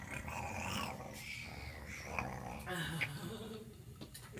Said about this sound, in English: Beauty, you're totally teasing my dog.